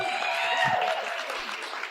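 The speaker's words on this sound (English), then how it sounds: "You must be applauding" Audience at a live Los Angeles podcast event applauding steadily, a dense wash of clapping from a nearby crowd that holds for the whole stretch with no speech over it.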